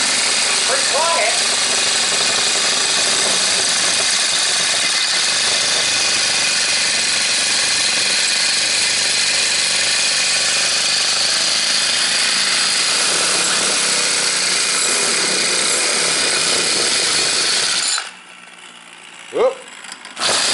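A small engine on a homemade quarter-scale rear end built from a grinder cranks over and runs steadily with a loud mechanical clatter, then abruptly cuts out near the end with a brief sputter.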